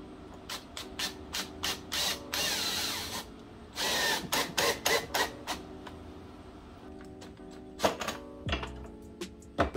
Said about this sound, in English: I'm just gonna screw it to my little wood table for now and give it a go.